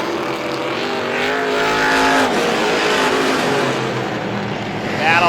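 Stock cars racing around the Star Speedway oval in a strictly feature, engines roaring and droning as they pass, loud and continuous, with faint commentary underneath.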